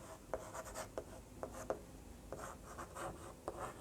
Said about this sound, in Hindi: तो लिखेंगे यहाँ